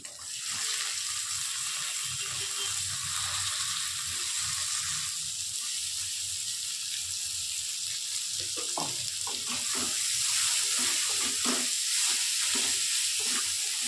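Soybeans fry in a pan for a coriander soybean dish, with a steady, loud sizzle throughout and some light clatter of stirring toward the end.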